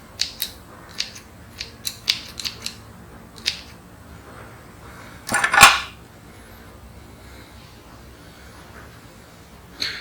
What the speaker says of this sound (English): Just want to kind of cut some of it back, 'cause I guess those roots are just quite long.